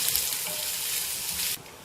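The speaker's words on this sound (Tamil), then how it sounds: "இதில் வெங்காயத்தை சேர்த்துக்கலாம். நல்லா வதக்கிக்கலாம் நிறம் மாறுற வரைக்கும்." Onions sauté in oil in a pan after mustard seeds have popped, a steady hiss that stops abruptly near the end, leaving a quieter hum.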